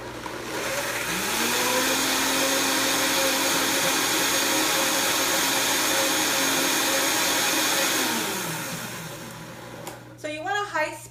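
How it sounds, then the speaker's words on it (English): Blender whirring through a carne asada marinade with black pepper, a loud steady motor whine that spins up, holds for several seconds, then winds down before a voice speaks at the end. "Blender, because you don't want this chunky, you want it nice and smooth because it's a marinade."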